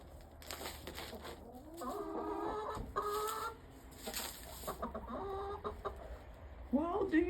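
Hens clucking inside a coop on a very cold day, busy overlapping clucks and squawks at close range with scratchy movement throughout and a sharper burst at the end.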